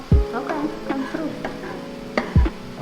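Smash burger patties on a griddle give soft sizzling and frying hiss, with two sharp spatula scrapes and clatters at the start and near the end.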